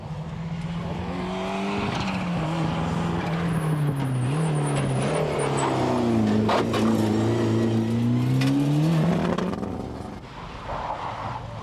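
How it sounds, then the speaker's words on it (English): A rally car with an intermittent engine misfire on a stage of the 1994 Ulster Rally, its loud engine note rising and falling as it passes close by, with some tyre noise. "The mysterious misfire that Davy experienced in Lurgan Park is back again."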